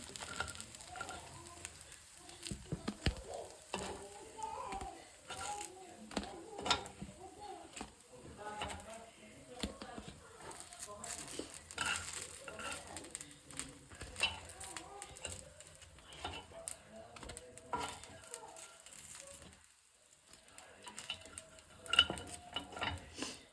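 Paddu are turned one by one in a cast paddu pan, a long run of light metallic scrapes and taps over a low sizzle, quiet and close, with occasional faint background sounds.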